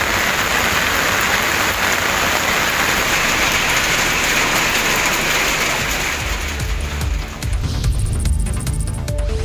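Heavy rain pouring down in Kumbakonam, Tamil Nadu, a dense continuous loud hiss of downpour on surfaces, with a brief shift near the end to lower rumbling and a faint tonal whine.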